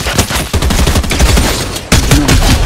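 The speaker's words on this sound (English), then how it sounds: "Stop shooting at me" Rapid gunfire from the video game Fortnite in a duos match, loud and close, with dense bursts of shots in quick succession and a brief pause before another volley.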